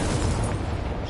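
A Confringo spell from Hogwarts Legacy erupts in one short, loud, rumbling explosion that fills about a second with dense low booming and no voices.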